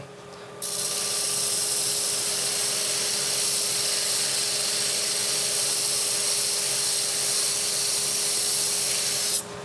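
A wood and pewter vase being sanded on a lathe, a loud steady whirring hiss with a constant machine hum that starts abruptly and runs unbroken before cutting off at the end.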